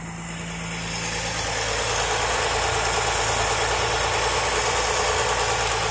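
A 1974 Ford E100 van engine idles with a steady rough rumble and a rattling, knocking undertone, continuous and close throughout.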